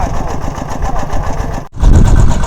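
A small engine-driven water pump runs steadily while draining a pond, its mid-pitched motor drone holding an even rhythmic chug, briefly cutting out before resuming louder and heavier.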